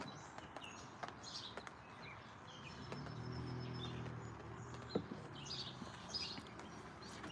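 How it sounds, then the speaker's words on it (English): Faint, scattered bird chirps sound from a distance over a low outdoor rumble, with a soft steady hum in the middle of the clip. "Now we can hear the birds again."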